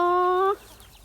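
On a farm by the rice fields, a rooster gives one drawn-out, loud crow that cuts off abruptly, leaving quiet outdoor ambience.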